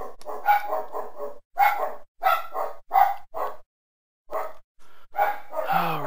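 A pet dog barks repeatedly in quick, uneven bursts, loud and close, with brief pauses between volleys and a whiny yip at the end, no talking over it.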